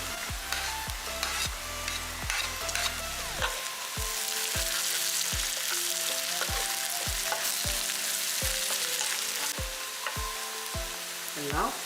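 Chopped green chilli frying in a pan with ginger garlic paste for a vegetarian curry, a steady close sizzle that continues throughout, with regular stirring taps against the pan.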